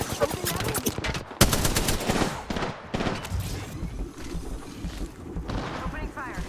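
Rapid automatic gunfire in a battle royale video game, dense bursts of shots rattling close and loud with game effects layered underneath.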